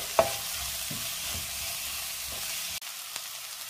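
Onion and green chili sautéing in a pan for a Kuttanadan-style duck curry, a soft steady sizzle with several scraping stir strokes and a sharp clink near the start, then cutting out abruptly toward the end.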